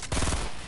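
Automatic gunfire in a shooter video game, a rapid burst of close, punchy shots lasting under a second.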